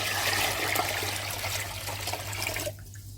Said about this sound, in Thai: เราจะเติมน้ำส่วนที่เหลือเป็นน้ำดื่มนะคะ เราจะใช้ 4 ลิตรเลยนะเทลงไปเลย